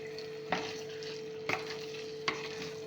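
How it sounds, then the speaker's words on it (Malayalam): Washed chicken parts sizzle as they are fried and stirred in masala in a pan, with a soft, steady sizzle and a few sharp scraping stirs, close and with no talking. "അപ്പോൾ നമുക്ക് ഈ കഴുകി വാരി വെച്ച ചിക്കൻ പാർട്സ് ഇട്ട് കൊടുക്കാം."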